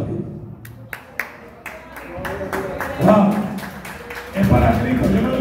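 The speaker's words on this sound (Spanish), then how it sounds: "denle un aplauso a Dios" Rhythmic clapping from a church congregation rises into fuller applause partway through, mixed with voices and room noise.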